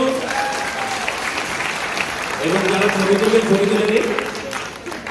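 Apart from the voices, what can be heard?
audience applause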